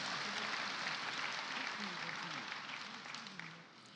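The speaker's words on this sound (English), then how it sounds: "Let's give them a big round of applause." Audience applause fills a tribute event honouring Philip Kgosana and the veterans present, a dense, steady wash of clapping with voices mixed in that fades slightly toward the end.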